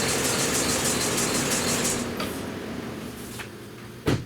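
A 2013 Lincoln MKX engine idling with a steady hum, then shutting off so the sound fades to a low, quiet background, ending with a brief click or thump.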